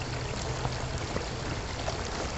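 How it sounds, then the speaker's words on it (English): Stream water poured from an old, dirty bottle into a Camelbak hydration bladder outdoors, a steady rushing pour with a broad wash of noise that holds even and unbroken throughout, close and moderately loud, with no talking. "I'm going to put water from the stream using this bottle into my camelbak."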